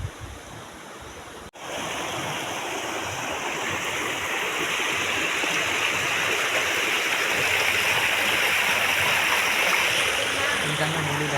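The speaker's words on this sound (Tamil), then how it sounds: "இதுதாங்க முள்ளியில் நான் லொக்கேஷன் வச்ச பக்கத்தில் ஒரு ஃபால்ஸ்." A waterfall near Mulli, Tamil Nadu, running full of water: a loud, steady, close rushing roar that continues without a break after a short cut near the start.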